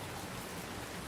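Rain falls steadily near a Sai Baba temple, a dense, even hiss of drops hitting surfaces with no talk.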